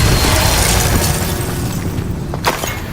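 A Confringo fire spell explodes in Hogwarts Legacy with a heavy, roaring boom that rumbles and fades, followed by a couple of short sharp cracks toward the end, loud and close with no talking.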